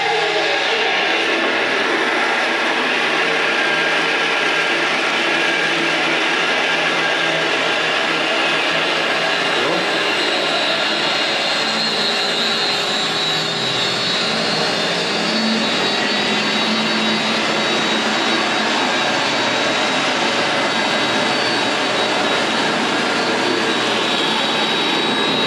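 A permanent magnet motor driving a high-flow fire pump starts up in automatic mode, giving a loud, steady broadband whir and rush of water that holds constant throughout, with faint talk underneath.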